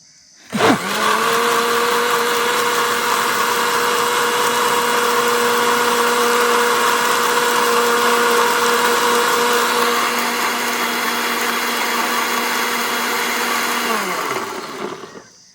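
A mixer grinder blends guava for juice, starting with a sharp whir and holding a loud, steady motor whine for about fourteen seconds before spinning down, close up with no speech.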